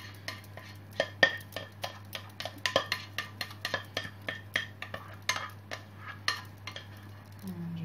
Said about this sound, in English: Scrape it all out